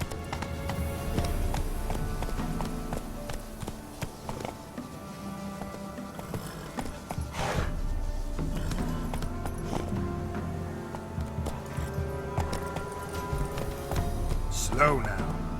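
Roach, the horse in The Witcher 3, runs with a muffled hoof rhythm beneath almost constant speech and a busy game mix, and the pace never stands out clearly.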